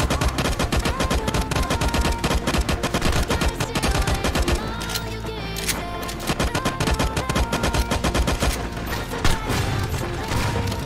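Gunfire in the online shooter LifeAfter during a big cross-server battle: loud, dense, rapid bursts of shots and impacts crackle almost without a break for the whole stretch.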